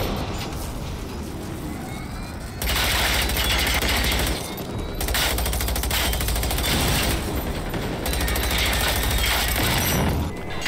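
Rocket launcher firing EMP rounds at a tank in the video game Generation Zero, heard as loud, sustained bursts of blasting and crackling that come in three long waves with brief drops between them.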